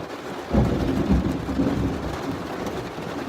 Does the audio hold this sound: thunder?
yes